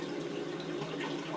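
Water rushes steadily into a toilet tank in a Tokyo apartment, a constant, even hiss and gurgle of refilling heard alone at close range.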